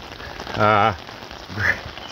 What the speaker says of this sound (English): the water was really, really downpouring